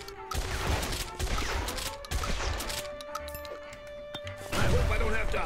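Bursts of gunfire in the video game Guns, Gore and Cannoli, sharp repeated shots and impacts in rapid clusters, loud and close, with a brief lull before a final heavy volley.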